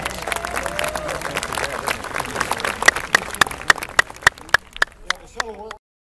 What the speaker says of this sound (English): So I'll give them a round of applause